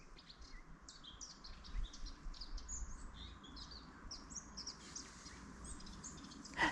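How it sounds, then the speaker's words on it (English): Many small birds chirping and singing in rocky mountain countryside near a river in Grazalema, quick high trills and tweets overlapping at a moderate distance against a quiet outdoor hush. "Listen to the birds."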